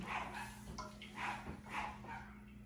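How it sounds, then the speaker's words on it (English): Several dogs bark in a few repeated bursts at a moderate distance on a sunny day, with kids playing outside, over a steady low background hum. "Sorry guys, it's the dogs."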